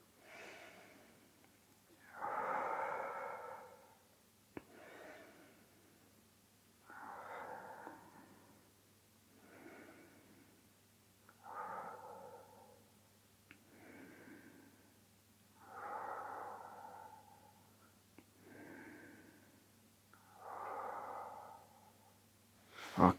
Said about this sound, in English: breathe deeply into it